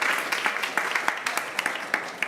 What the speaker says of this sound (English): can we just have a huge round of applause for our panelists